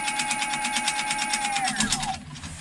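An ebike hub motor run at full throttle on a Sabvoton sine wave controller gives a rising electric whine with a fast rhythmic pulsing, then the tone sweeps upward and cuts away near the end, close and moderately loud.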